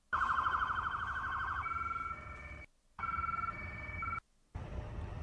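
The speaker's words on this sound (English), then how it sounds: "We got the sirens off." A wailing electronic police siren in a video game cycles loudly, cutting out twice for a moment before resuming, with no voices.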